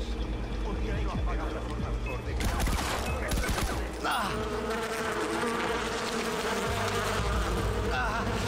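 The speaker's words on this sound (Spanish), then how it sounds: "No me esperaba las abejas." A swarm of bees drones continuously in Far Cry 4, mixed with bursts of gunfire and busy game effects, while a voice talks over the action.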